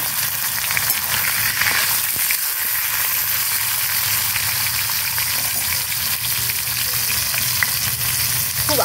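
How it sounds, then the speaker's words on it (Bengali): Washed loitta dry fish frying in white oil in a pan: a loud, continuous, close sizzle with crackling spatter holds steady for nearly nine seconds, with no speech over it. "তেল গরম হয়ে গেছে, এবারে আমি ধুয়ে রাখা মাছগুলোকে হালকা করে ভেজে নেব।"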